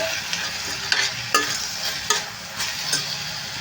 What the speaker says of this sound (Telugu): ఉల్లిపాయలు అయితే ఫ్రై అవుతున్నాయి కదా